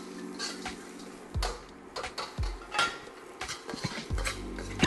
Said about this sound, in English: Just gonna have a little toss